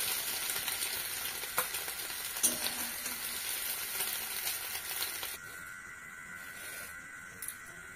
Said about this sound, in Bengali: ডিমটা আমি ভুজিয়া স্টাইলে ঝুরি ঝুরি করে ভেজে নিয়েছি